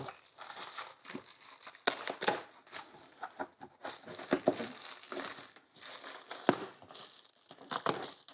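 Crinkly crumpling and tearing of cardboard, tape and plastic wrapping as a packaged 1986 skateboard is unboxed, in irregular bursts of rustling close by, no talking.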